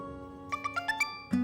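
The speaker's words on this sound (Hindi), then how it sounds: "मिनट, फोन आ रहा।" A phone rings in a quiet indoor room, a short electronic ringtone of five evenly spaced rising beeps followed by a louder tone, close and clear with no one speaking.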